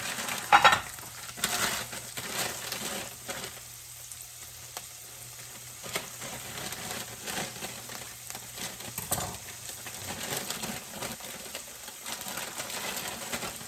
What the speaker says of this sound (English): That's all we're doing, is browning the liver.